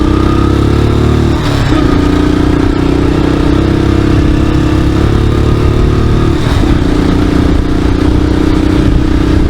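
A motorcycle runs hard on a dirt road at around 80 km/h, its engine droning loud and steady with a couple of brief dips in pitch as the throttle shifts, plus rattling clatter underneath.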